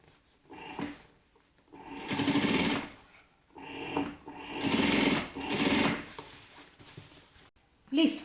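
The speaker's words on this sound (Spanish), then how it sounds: "voy colocando la orillita del sesgo sobre la costura que ya pasé y pasando la máquina" Home sewing machine stitching bias binding around a blouse neckline, running in several short bursts of rapid needle chatter separated by pauses, with faint handling sounds between runs.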